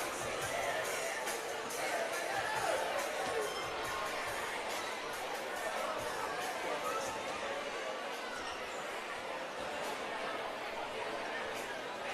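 Crowd at a men's basketball game in Shepparton, a continuous murmur of chatter with scattered cheers and laughter, moderately loud and distant, with a voice talking over it at times.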